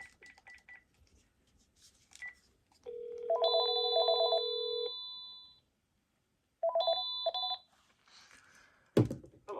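A Panasonic KX-TG5632 cordless phone gives short electronic rings and beeps, close and clear in a quiet room: several brief chirps, a long sustained tone burst, then another short ring burst and a final clunk.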